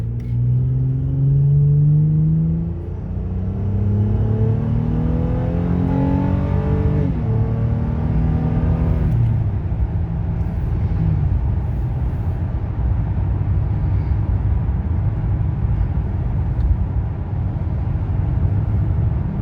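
A Honda Ridgeline pickup with an AEM cold air intake revs up through rising gear pulls accelerating from 0 to 60, a loud rumbling climb that shifts, then settles into a steady cruising drone.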